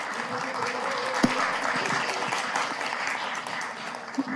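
An audience at a Seoul village community award ceremony applauds as a presenter is welcomed, a steady wash of clapping from a mid-distance crowd with a couple of sharper claps standing out.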